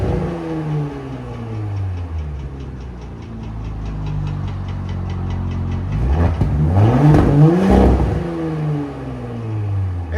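Porsche Cayenne S with a 2.9-litre twin-turbo V6 and straight-pipe exhaust revving in sport mode, loud rising and falling engine tones that build into a harsher, stronger rev burst partway through before settling again.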